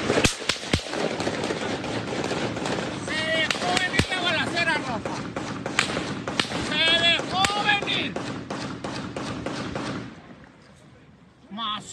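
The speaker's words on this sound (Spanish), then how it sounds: "¡Esos son balazos!" Bursts of gunfire crackle in rapid sharp volleys over about ten seconds, close and loud, with excited shouting and talk running underneath before it drops to near silence.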